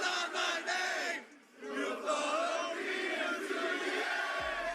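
A huge WWE Backlash wrestling crowd in Lyon, France roars and chants in unison, a big arena wall of voices that briefly dips before swelling back to full volume.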